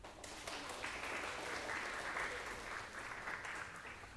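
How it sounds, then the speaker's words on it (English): Steady applause from an audience at a university event, sustained clapping throughout with no pauses, fairly distant and even in loudness. "Can we have a big round of applause for sir?"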